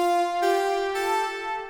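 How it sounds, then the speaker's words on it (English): A Serum synth saw wave with four unison voices and no detune plays sustained bright, buzzy notes, one long tone shifting pitch twice, loud and alone with no talk. "So without the detuning, it sounds like this."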